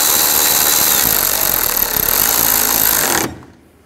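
A power tool runs loud and steady while tightening bolts on the radiator fan brackets of a 2009-17 Chevy Traverse, a continuous close whirring buzz for about three seconds that then cuts off abruptly to quiet.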